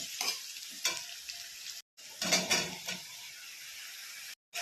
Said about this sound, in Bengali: একসঙ্গে সব সবজিগুলো লাল লাল করে ভেজে নিয়ে তারপর জলটা দিয়ে দেব।